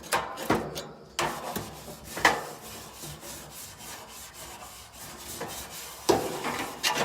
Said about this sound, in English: Scrape off all your crusties.